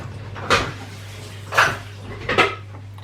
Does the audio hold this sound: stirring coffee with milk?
yes